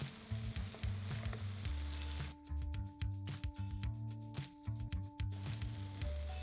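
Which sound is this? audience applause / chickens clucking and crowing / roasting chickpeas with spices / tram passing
roasting chickpeas with spices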